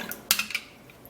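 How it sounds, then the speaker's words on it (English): A utensil clinks against a bowl in a few quick, light taps as egg white is stirred into yogurt, with no talking. "And now we would have to stir"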